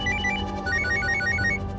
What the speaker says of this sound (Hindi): लो, डॉक्टर का ही फोन आ गया